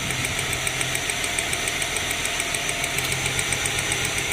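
A 2006 Ford Falcon BF engine idles roughly with a misfire, a dense steady mechanical drone carrying an uneven pulsing knock, recorded up close under the hood with no talking.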